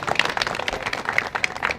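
A crowd at an outdoor political rally for a Ranchi Lok Sabha candidate claps in a dense, loud burst, with a few sharp squeaks or whistles over the clapping.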